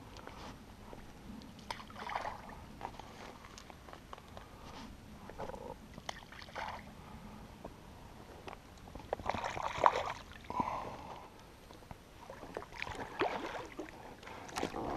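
Small rowboat being rowed back across a lake while carp fishing in the Canaries, oars splashing and knocking in a loose, irregular rhythm with soft water sloshing, fairly quiet and close throughout.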